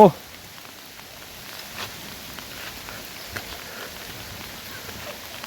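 Heavy rain pours outside a cave as a steady, dense hiss with scattered drops and light taps, heard from sheltered cover and fairly even throughout.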